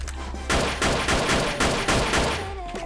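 Pistol fire in the online shooter Wolfteam comes as a burst of sharp, loud shots about half a second apart, each with a short ringing tail. The shots are heard close up and carry straight through.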